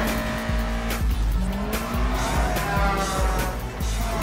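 A Saleen S281 SC Mustang in a film chase scene, loud engine revving with sharp tire squeals and skids, several bursts in quick succession up close over a roaring motor.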